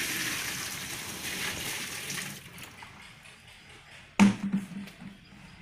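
Water is poured into the tub of a Godrej 800 model semi-automatic washing machine, a steady splashing rush that fades out, followed by a sudden louder slosh and knock near the end.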